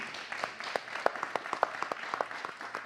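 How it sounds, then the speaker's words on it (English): A seminar audience claps, a thin scattering of separate hand claps at an uneven rhythm, fairly faint and distant-sounding, over a quiet room. "Can we clap that out?"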